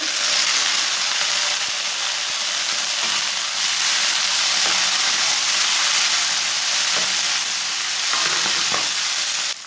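Garlic and onion fry in a pan with a bright, steady sizzle and hiss while peas are tipped in, the crackle holding loud and even throughout with a few soft stirring knocks.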